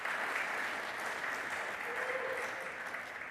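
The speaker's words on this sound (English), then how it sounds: "Let's have a round of applause for us" An audience at a mapping conference's closing session claps steadily throughout, a dense, even round of applause from a sizable crowd, with a faint cheer or voice briefly rising within it.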